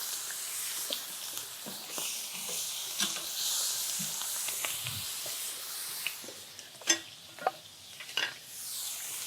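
Smash burger patties sizzling on a hot griddle, a steady fizzing hiss with scattered scrapes and clinks of a spatula as they are flipped, growing sharper near the end.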